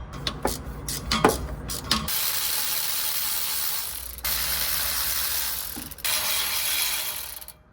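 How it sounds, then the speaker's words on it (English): A ratchet backs off the fasteners holding the turbo to the manifold on a Honda Vamos, giving short bursts of close, sharp clicking followed by a long, steady hissing whir that cuts out briefly and resumes. "So next we'll be removing the 3 fasteners that hold the turbo to the manifold."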